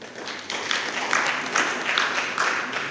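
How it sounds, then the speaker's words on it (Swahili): An audience at a gathering gives a short round of scattered clapping that sounds soft and somewhat distant, over a steady wash of room noise. "Tujipieni makofi."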